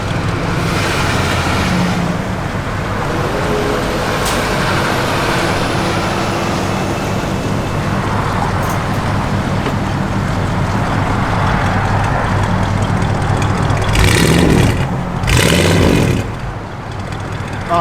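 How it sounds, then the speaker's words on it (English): A 1977 Dodge Ramcharger 4x4 idles with a steady, calm engine and exhaust rumble, loud and continuous throughout, with a couple of brief louder bumps near the end. "Exhaust is pretty calm too."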